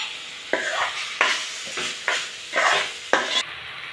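Curry leaves go into a pan of fried onions and green chillies for a prawn, drumstick and egg curry, sizzling under repeated scraping stirs at a regular pace, about one every half second, close and clear.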